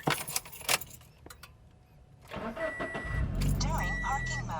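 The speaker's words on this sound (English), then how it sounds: "I'm gonna turn on the car." A car's engine cranks and starts after keys jangle, then settles into a steady idle; people talk over the sound, and the start comes in strongly in the second half.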